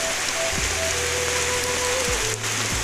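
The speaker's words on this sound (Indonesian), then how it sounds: "Hujan teman-teman." Steady rain patters on a surface, a dense continuous hiss of drops up close, with a faint low hum underneath.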